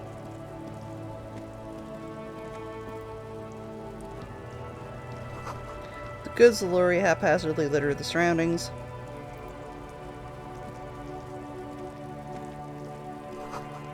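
Rain patters steadily in the video game Disco Elysium, a soft, even wash of drops that runs throughout while a narrator speaks over it.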